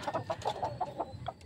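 Pet fighting chickens (gamecocks) cluck in a steady series of short, close calls, about a dozen soft bursts in quick succession with no voices over them.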